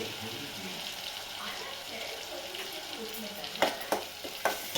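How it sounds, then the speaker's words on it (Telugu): Ingredients frying in oil for anttu pulusu, a traditional Telugu dish, giving a continuous crackling sizzle with soft stirring, and several louder sharp scrapes near the end. "ఇది కొంచెం ఫ్రై కావాలండి చూడండి ఇలా ఫ్రై కావాలి"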